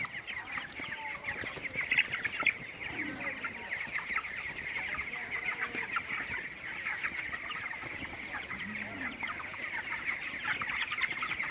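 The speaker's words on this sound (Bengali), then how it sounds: "প্রত্যেকটি মুরগি দৌড়াইয়া যেন একখান থেকে আর একখানে যাইতে পারে" Twenty-day-old broiler chickens in a poultry shed keep up a continuous soft chorus of clucks and chirps from many birds at once, at moderate distance and fairly quiet, with no talking.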